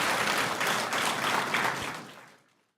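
An audience at a staff performance award ceremony applauds steadily, a dense wash of clapping from many hands that fades out near the end.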